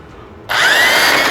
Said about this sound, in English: Let's drill some holes in them.